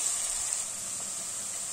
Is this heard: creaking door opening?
no